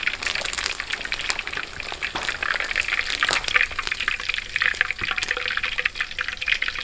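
Pig trotters deep-frying in very hot oil outdoors, a steady close crackling sizzle with dense popping and spitting bubbles throughout, no talking.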